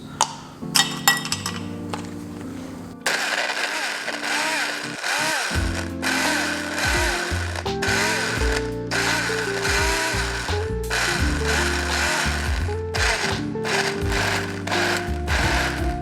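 A Sunbeam Insta Go blender crushes ice cubes, opening with sharp clinks and rattles before the motor kicks in with a loud grinding, warbling whir that continues to the end, with no talk.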